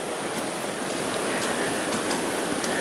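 Rushing river water at Sekar Langit, a dense, continuous broadband roar heard steadily at moderate level with no voices.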